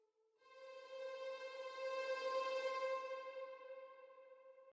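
Orchestral string section playing a sustained tremolo chord in FL Studio for Celtic fantasy music, a shimmering held tone that swells and fades over about four seconds, heard alone.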